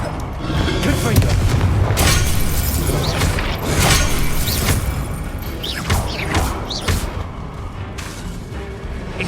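Booming blasts from the Confringo spell in the video game Hogwarts Legacy, several loud explosive bursts spaced a second or two apart over rumbling combat effects, with a voice calling out in between.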